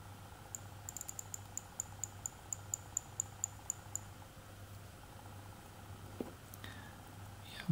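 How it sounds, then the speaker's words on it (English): A rapid series of tiny crisp clicks ticks evenly as the crown of a 1950s JW Benson mechanical watch with a Smiths movement is wound, quiet and close over faint hum, then a soft rustle. "When you turn the crown on a watch that has a Smiths movement,"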